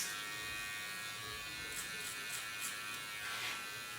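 An electric hair clipper hums steadily while cutting hair for a fade, a continuous close buzz with brief bursts of snipping as it passes through the hair.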